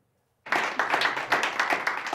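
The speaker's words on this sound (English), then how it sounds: "It's exceptional for politicians to applaud committee witnesses" Politicians at a Canadian parliamentary committee hearing applaud athlete witnesses who testified about abuse in sports. The burst of clapping starts abruptly after a short silence and continues as dense, steady applause from a group.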